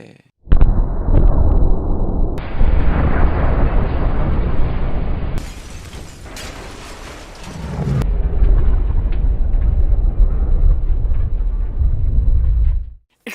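A gunpowder magazine blowing up in a loud, sustained explosion, a heavy roaring blast with crackling and shattering bursts, briefly dropping before a second long rumbling wave that fades out near the end.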